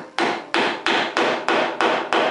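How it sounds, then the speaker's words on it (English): A chisel is struck to chop a mortise by hand in wood, giving seven loud, evenly spaced mallet blows about every third of a second, each a sharp percussive knock that decays briefly before the next. "Probably achieving 1/4 3/8 with every dig, every mortise chop."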